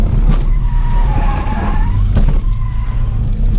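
Drift car at a drift event, with intake whine from individual throttle bodies under a loud, continuous engine drone, and tires skidding through the middle after the e-brake is pulled.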